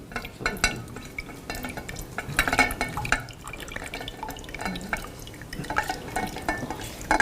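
Near-boiling water poured over a bottle topped with a balloon, giving a continuous splashing, trickling stream with small drips, close by in a room, moderately loud and without talk.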